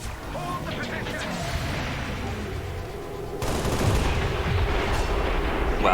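Gunfire and explosions in the video game XCOM 2: dense, rattling bursts of shots that turn heavier and rumbling partway through, with a voice speaking over them.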